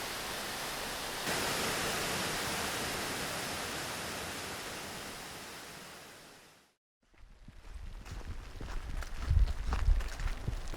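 The large waterfall at McLeod Brook Falls in a mossy gorge sends up a steady broad rush of falling water that fades out, followed after a brief gap by nearer wind buffeting and rustling.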